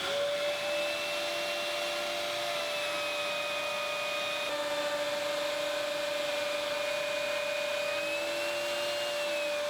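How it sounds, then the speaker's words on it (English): A router fitted with a 17mm groove cutter mills a groove into workbench plates, a sustained high-pitched whine with a steady motor drone, its pitch shifting slightly partway through as the cut continues. "For this I use a router with a 17mm groove cutter matching the C-rails."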